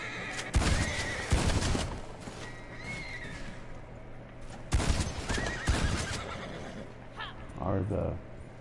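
Horses whinny loudly several times in the video game Red Dead Online, with hoof clops and a steady low hum between the calls.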